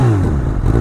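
A 2019 Honda CB1000R fitted with a Termignoni GP2R exhaust gives a brief, loud raspy rev, the note dropping away within a second with no talk.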